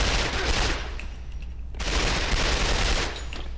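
Dense, continuous automatic gunfire in the PS2 game Quantum of Solace, a loud sustained barrage with only a brief dip in the middle, with no talking over it.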